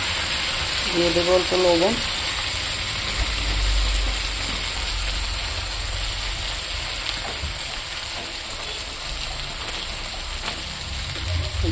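Cauliflower fries in a pan with a steady, even sizzle that runs the whole time, close and fairly loud, while a voice speaks briefly near the start.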